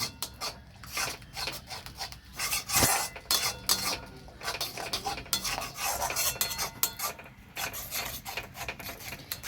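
A spatula or spoon scrapes and rubs repeatedly against a pan as a wet spice mixture for Bengali doi katla is stirred over low heat. The strokes come in an uneven rhythm, close and fairly loud, with no talking.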